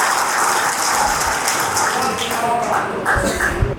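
Sustained applause from a crowd at a rural farmers' gathering, a dense steady wash of clapping lasting the whole stretch with a few louder thumps near the end.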